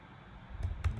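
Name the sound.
typing on a computer keyboard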